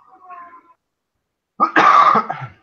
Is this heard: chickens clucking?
no